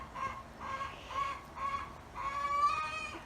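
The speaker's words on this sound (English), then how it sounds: "That's our neighbor's chicken." A neighbor's backyard chicken clucks in a short series of near, moderately loud calls, four or five quick clucks ending in a longer drawn-out note, over faint background noise.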